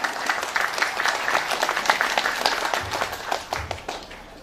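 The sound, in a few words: applause from the audience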